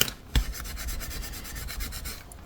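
Bone folder rubbed firmly over paper on a scrapbook album cover, a dry rhythmic scraping of quick close strokes after one sharp knock at the start, with no voices.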